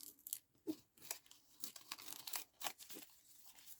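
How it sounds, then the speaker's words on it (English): Paper being torn by hand for a junk journal page, a series of short ripping and crinkling bursts close to the microphone with brief pauses between pulls, no talking. "Just going to turn it round and then just tear where that is roughly"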